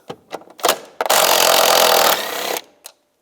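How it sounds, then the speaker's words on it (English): A 13mm socket spins nuts off a 2004-2010 BMW X3 shock absorber mount: a few clicks and taps, then a loud, close mechanical whir lasting over a second before tapering off. "Use a 13mm socket. Take these nuts off."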